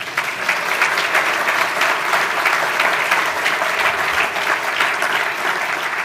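Sustained audience applause at a Western Australian Australian of the Year awards ceremony in 2021, steady and dense clapping from a large crowd throughout, loud and continuous with no break.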